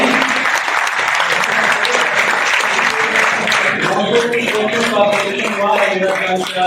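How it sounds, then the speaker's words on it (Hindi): Sustained applause from an audience at an award ceremony honouring selected IAS and IPS candidates, loud dense clapping that thins slightly toward the end, with voices mixed in. "तालियों की गड़गड़ाहट को जारी रखनी चाहिए आपको।"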